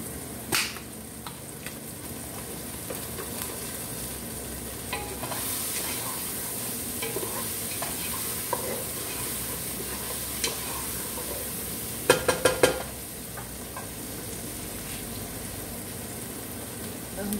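Garlic frying in a pot for corn chowder, a soft steady sizzle with occasional spoon clinks and stirring scrapes, close by, with a voice speaking briefly over it.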